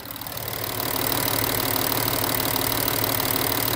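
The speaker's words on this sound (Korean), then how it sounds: "엔진 소리 한번 들려드릴게요." An Audi A6 3.0-litre V6 diesel engine idles steadily with a low, even rumble, rising slightly in the first second and then holding constant, close by with no talking.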